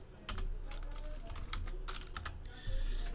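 Rapid, steady typing on a computer keyboard while a chat message is entered, dense clicking keystrokes close up and alone with no talk.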